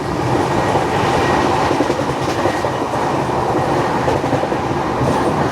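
The Howrah–Bengaluru superfast express train roars along at about 130 km/h through fog, with rhythmic clickety-clack of wheels on rails, loud and continuous, with a strong rush of air.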